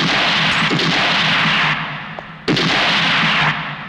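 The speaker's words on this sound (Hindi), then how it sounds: "विश्वनाथ, इस तरह तस्वीर पर गोली चलाने से तुम्हें वो सब कुछ तो नहीं मिल जाएगा जो तुमने खोया है।" Two loud gunshots ring out a couple of seconds apart, each followed by a long echoing decay.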